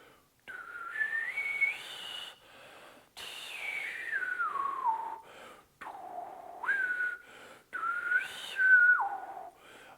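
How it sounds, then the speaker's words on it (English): A trumpet player blows air with friction through the lips to shape a vowel during pitch practice, producing a soft breathy whistle-like tone that glides up and down in separate phrases with short pauses. "I've created friction with my lips, so you can hear the vowel."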